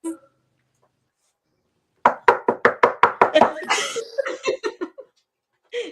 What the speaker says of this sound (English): She's got the knock in.